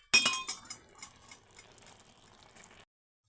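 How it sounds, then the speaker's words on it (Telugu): A metal lid is set onto a pot of tomato rice cooking on the stove, giving a sharp close clink followed by a few lighter rattling taps as it settles, then stillness. "మూత అయితే పెట్టేస్తున్నాను చూడండి."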